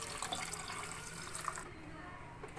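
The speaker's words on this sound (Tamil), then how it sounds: "இதில் அந்த தண்ணியை ஊற்றிக்கலாம்." Water pours into a cooking pot of rice for mushroom biryani, a soft steady stream that cuts off partway through, followed by a quiet pause and a sharp clink.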